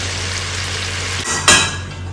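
Kaleji (liver meat) roasting in a pan, giving a steady close sizzle with a brief louder hiss and clatter of stirring near the end; no voices.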